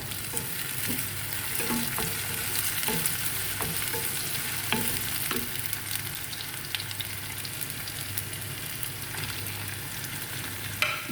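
Ginger, cumin and garlic paste fries in a pan with a steady sizzle, while a utensil scrapes and stirs in a run of irregular clicks, close and moderately loud throughout.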